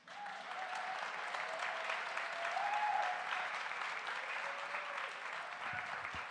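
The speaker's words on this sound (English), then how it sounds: "Let's keep clapping for the 3 featured storytellers tonight." Steady applause from a bar audience at a storytelling night, broad continuous clapping that holds at an even, fairly loud level for several seconds.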